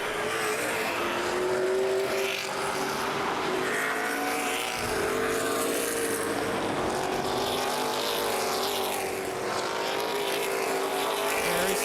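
Race cars roar around the dirt oval at New Paris Speedway during the Summer Sizzler 100, a loud continuous wall of engine noise with shifting pitch as the field runs strung out in single file, no voices.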